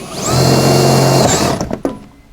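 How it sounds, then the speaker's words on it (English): A power drill bores through plastic while fitting footwell skids on an RZR side-by-side, running as a loud steady whine for over a second before spinning down with a few clicks and clunks. "you're just going to just match drill it through the plastic"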